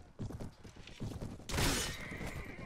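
Horses gallop in a Mount & Blade battle, their hoofbeats clip-clopping in a fast rhythm with neighs, followed by a sudden loud crash of battle noise.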